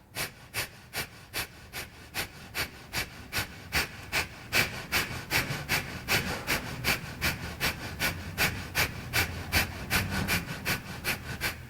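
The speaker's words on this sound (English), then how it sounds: "Inhale, pull that chest through and begin breath of fire." Breath of fire yoga breathing, a long steady train of rapid, sharp nasal exhales at roughly two to three per second, close and evenly paced, with no talking.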